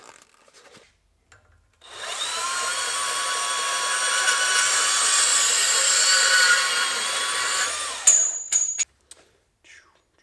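A metal part for a homemade drift e-brake on a BMW E36 is cut to length with a tool. The cutting runs as a steady, loud grinding rasp for about six seconds, followed by a few sharp clanks.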